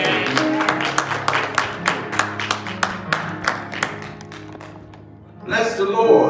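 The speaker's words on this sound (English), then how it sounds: "Let's give him a hand clap." A church congregation claps for pastor Robert Dix, a steady run of about a dozen even, close hand claps that fade out before voices and music rise.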